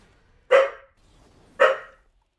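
Two clear puppy barks about a second apart ring out close and loud over near silence.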